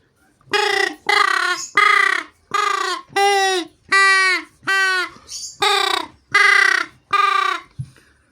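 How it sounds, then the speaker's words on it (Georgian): A duck call is blown in a series of about ten loud, nasal quacks, evenly spaced and close, with no talking. "ეს კიდე წითელი იხვის საყვირი."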